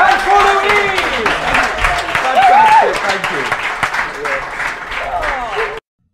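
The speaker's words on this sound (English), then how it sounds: "Round of applause, please, for Beth and for Louise." Audience applause breaks out, a burst of clapping mixed with cheering voices and a whoop, loud and close, ending abruptly.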